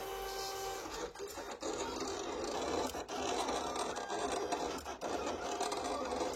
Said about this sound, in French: La machine commence par ajuster la profondeur de lame pour le flex.